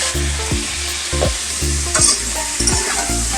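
Cauliflower and potatoes frying with turmeric and salt in a pan, loud close sizzling broken by rhythmic stirring scrapes about every half second, with no voices.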